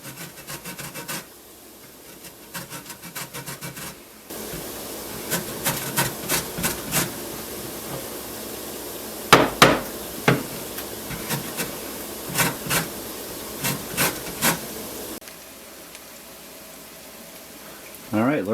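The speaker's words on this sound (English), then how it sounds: "she's doing the zest of lemon" A lemon is scraped against a zester in a home kitchen, giving a series of repeated rasping, scratchy strokes in short bursts, close and fairly loud, with quiet gaps between the runs of strokes.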